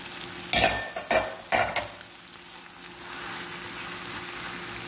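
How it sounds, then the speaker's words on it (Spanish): Ground meat frying in a pan for stuffed caigua, three sharp bursts of scraping and stirring in the first two seconds, then a steady, softer sizzle that carries on alone, no voices. "Dejamos que se fría nuestra carne"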